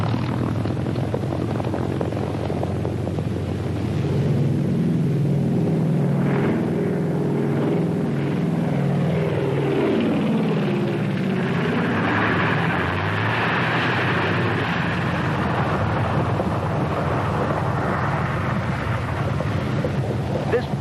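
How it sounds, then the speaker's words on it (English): A WWII-era primary trainer aircraft engine during a cadet's first solo flight gives a steady, loud droning roar that rises and sweeps in pitch as the plane passes, with narration heard over it. "This proud cadet is completing his first solo flight."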